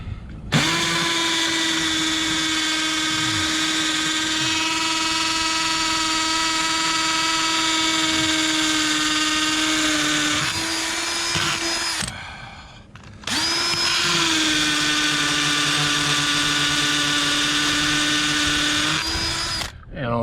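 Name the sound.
power drill driving anchors into concrete for pergola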